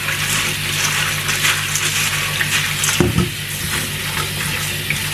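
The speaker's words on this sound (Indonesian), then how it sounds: "cuci dulu semuanya ya bahan-bahannya, atau direndam selama 5 menit juga nggak apa-apa" Chinese herbal soup ingredients are rinsed under running water at a sink, with a steady splashing hiss of the tap and a short clatter of handling midway.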